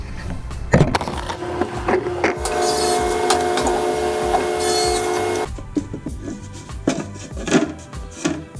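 Cutting a piece of 1/4-inch plywood for a motorcycle top pannier: clattering handling and knocks, then a sustained buzzing, whining cut lasting about three seconds, followed by more scattered bumps and taps nearby.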